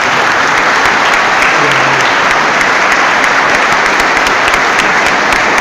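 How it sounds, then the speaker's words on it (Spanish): Loud, sustained applause from an audience at a Christian gathering, dense clapping filling the whole stretch at a steady level with no talk over it. "Recibamos al hermano con un fuerte aplauso."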